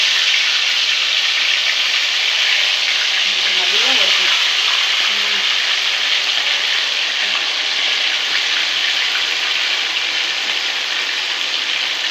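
Mint and coriander sauté in a pan with a constant loud hissing sizzle, and a faint tonal sound briefly rises in the middle.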